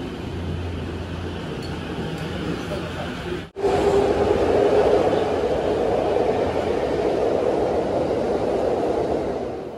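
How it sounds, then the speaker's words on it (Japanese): The Shonan limited express train departs Osaki Station, Japan, rumbling steadily at close range, a low mechanical drone with a brief dropout partway through, then continuing broad and loud as it pulls away. "大崎駅に初めて停車した、特急湘南22号が発車します。"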